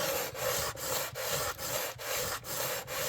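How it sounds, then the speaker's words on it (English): Steady back-and-forth rasping of a sanding beam leveling guitar fret wire, about seven even strokes with brief pauses between them, close and continuous. "I'm going to dig out my sanding beam one more time"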